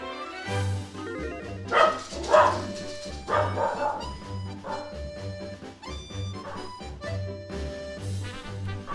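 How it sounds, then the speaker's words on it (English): A dog barks repeatedly and loudly in short bursts with yips and whimpers, over steady background music with a rhythmic beat, and no one speaks. "Don't know why dog Feer is barking."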